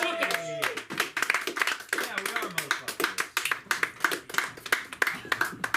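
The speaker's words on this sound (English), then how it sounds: "And give me a big round of fucking applause." Scattered audience clapping at a comedy open mic, a handful of distinct claps in an uneven rhythm, close and fairly loud, with someone talking over it at the start and again midway.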